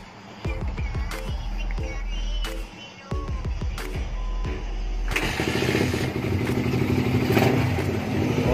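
A motorcycle fitted with a Koso 28mm carburetor is cranked with several rapid starter turns that stop, then crank again until the engine catches and settles into a steady, loud idle up close.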